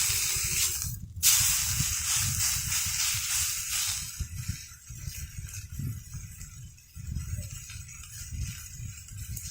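Food sizzling on a grill over an outdoor campfire, a steady bright hiss of frying that swells and fades, with low rumbling murmurs underneath.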